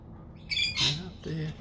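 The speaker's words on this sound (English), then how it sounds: "One, two, three, four, five, six, seven kookaburras. Hey, what a pretty kookaburra." Kookaburras give short, harsh squawking calls near a bay, two brief rasping bursts heard under a voice.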